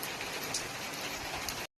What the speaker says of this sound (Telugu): ఇవాళ మా ఇల్లందులో భారీ వర్షాలు కురుస్తాయి